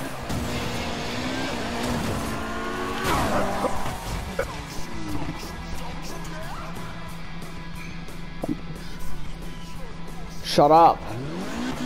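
Tires squeal as a car in a video game slides into a backwards drift, an engine droning steadily underneath while people talk loudly over it, with a sharp squeal burst near the end.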